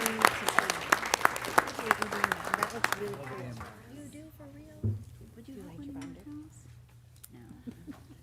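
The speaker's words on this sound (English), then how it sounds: "Can we give our kindergartners a round of applause?" Brief applause for kindergartners at a school board meeting, scattered claps over the first few seconds that fade out as people begin talking.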